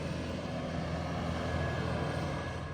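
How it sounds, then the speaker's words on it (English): A tractor passes by on a road beside an abandoned service station in a small Georgia town. Its steady, droning engine rumble stays fairly loud and constant throughout, with no talk over it. "And there goes a passing by tractor."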